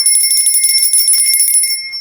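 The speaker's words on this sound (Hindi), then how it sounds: "उस दिन शाम को मुझे ये वाली घंटी मिली" A small plain brass hand bell rings close and bright, shaken in quick repeated strokes, its clear metallic tones sustaining and fading out at the end.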